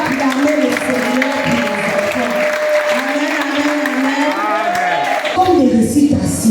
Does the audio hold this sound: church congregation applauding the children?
yes